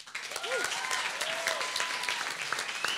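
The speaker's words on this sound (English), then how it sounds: "And a big applause for the team that developed the app, Nacho, Rebecca, and Anya, all together." Audience applause at a coding bootcamp demo day in Berlin: dense, steady clapping from a crowd that fills the whole stretch, with a few brief whistles mixed in.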